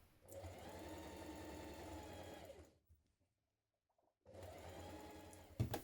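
A sewing machine stitches the side seam of a cardigan, running steadily for almost three seconds, falling silent, then whirring again for the last stretch, close and clear with no talk.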